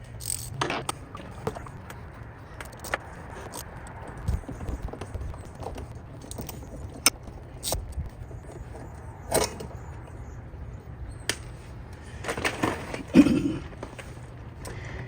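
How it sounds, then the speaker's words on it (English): A 9/16 ratchet wrench with an extension loosens the band on a pool filter cartridge housing, giving scattered clicks and metallic knocks over a faint background, with a busier cluster of clatter near the end. "So I've got my ratchet here. It's a 9/16."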